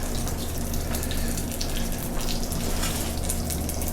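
Broth poured into risotto in a steady, continuous splashing stream that stays loud and close for the whole stretch, with no voices.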